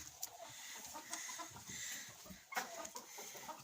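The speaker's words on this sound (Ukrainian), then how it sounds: "Сидить квочка і не хоче вставати. Сердиться." Hens cluck softly inside a coop, with a broody hen among them, giving scattered short calls and low clucks at a moderate distance amid quiet rustling.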